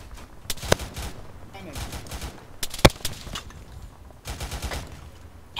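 Bursts of gunfire from a military shooter game session, with several sharp shots and brief volleys spread across the stretch amid background game noise and occasional voices.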